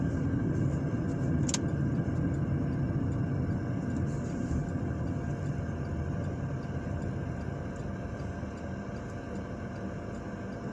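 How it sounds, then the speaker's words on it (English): A car drives down South 19th Street in Terre Haute, Indiana, heard from inside as a steady low engine and road rumble that fades slightly toward the end, with no talk. "right now I'm driving down South 19th here in Terre, Haute, Indiana."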